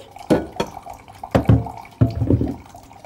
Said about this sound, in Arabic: اول حاجه عايزه احط هنا ايه الميه عشان اسلق البيض، وكمان هسلق الهوت دوج